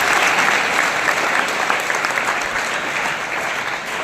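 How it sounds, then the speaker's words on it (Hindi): A school audience applauds a student's Saraswati Vandana recital: thick, even clapping from many hands, loud and unbroken from start to finish. "उसके लिए एक बार सब लोग ताली बजाएंगे"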